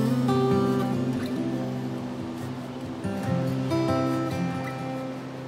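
The Pesangan River in Takengon, Aceh, flows past a campsite tent in a steady, close wash of rushing water, with faint tonal hums and background chatter underneath.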